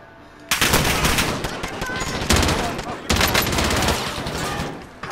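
Dense automatic gunfire from a weapon in Call of Duty: Modern Warfare, loud and close, with sustained rapid bursts that pause briefly and restart; a voice comes through faintly.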